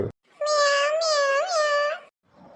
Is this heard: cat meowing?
yes